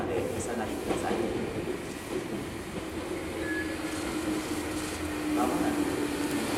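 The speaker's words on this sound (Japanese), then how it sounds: "まもなく2番線に電車が参ります。" A Meitetsu 6800 series local train rumbles into Sakurai Station on the Nishio Line with rolling wheel noise and a faint squeal of braking, continuous and moderately loud.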